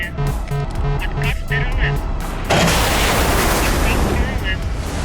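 Missile fired from a jet fighter in a combat flight game, a sudden loud rushing roar that swells and holds after steady cockpit beeping tones, close and dominant.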